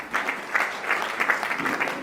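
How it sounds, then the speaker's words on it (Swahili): A church revival congregation claps for Jesus, a quick irregular patter of many hands at moderate volume, steady across the moment with no voices over it. "Mshangilie Yesu kwa makofi."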